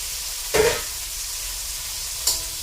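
Tomatoes fry in a pan as the base for a simple Filipino mung bean stew, a low steady sizzle with two short stirring scrapes spaced well apart, heard nearby with no voices.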